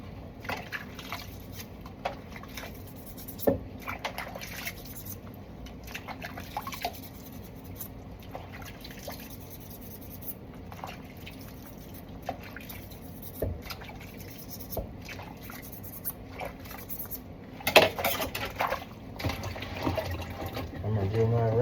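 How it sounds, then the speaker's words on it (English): Water running and splashing as cleaned instruments get a final rinse, with intermittent drips and trickles and a louder splashing burst toward the end. "I'm gonna do my rinse. My final rinse."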